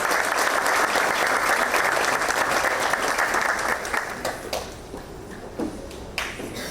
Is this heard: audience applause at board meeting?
yes